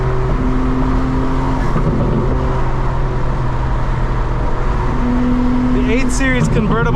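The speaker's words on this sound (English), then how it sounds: "I think that car is a twin turbo V8." A BMW 8 Series convertible's twin-turbo V8 hums steadily nearby with a rising tonal whine, then revs and shifts as it moves off at night; a person talks over it.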